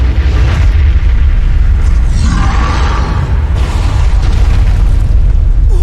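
A massive gunshot blast strikes Kaiju No. 10 in an anime battle, a loud, sustained booming roar with deep rumble filling the whole stretch and a brief brighter burst partway through, with no talking.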